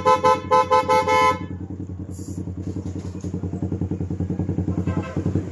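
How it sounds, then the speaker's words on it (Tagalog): A Honda Sniper 150 motorcycle horn gives several short, loud beeps in a quick burst, with a brief extra toot a moment later, while the idling engine putters rhythmically underneath. "Horn."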